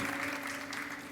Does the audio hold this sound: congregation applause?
yes